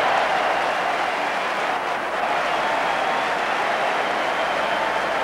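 A rugby crowd at a Middlesex Sevens match breaks into steady applause after a late try, a dense, even wash of clapping lasting throughout with no clear voices.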